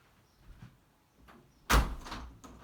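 A classroom door is pushed shut with one solid thud after a few soft shuffling sounds, then a brief fading rattle, with no talking.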